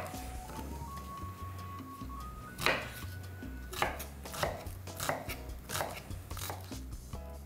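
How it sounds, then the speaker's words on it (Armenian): A knife chops an onion on a board in a series of crisp, fairly regular thuds, close and quiet, with a soft tonal background beneath. "Գլուխ սոխը շատ մանր չեմ կտրատի"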